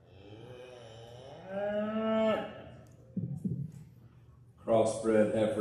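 A black baldy crossbred heifer at a youth livestock show gives a drawn-out moo, with an announcer's amplified voice heard over the arena and scattered background noise.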